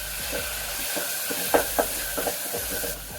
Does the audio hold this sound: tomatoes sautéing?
yes